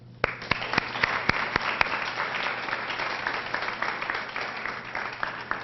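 Audience applause greets a speaker coming to the podium at a ribbon cutting for a rapid bus transit line, a steady, full crowd clapping with a few sharp, close claps standing out, lasting throughout.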